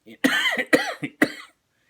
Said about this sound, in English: I'm still coughing and still recovering from COVID